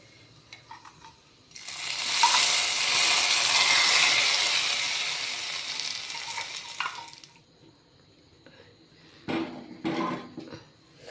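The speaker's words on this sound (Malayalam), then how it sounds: "അതിലേക്ക് നമുക്ക് ഈ കടുക് വറുത്ത് വെച്ചത് നമുക്കൊന്ന് ഒഴിച്ചു കൊടുക്കാം." Fried mustard seed tempering is poured into a coconut fish curry, bursting into a loud sizzle that swells and slowly fades over several seconds, followed by a few clinks of a spoon against the pot.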